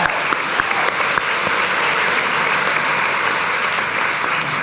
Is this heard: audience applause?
yes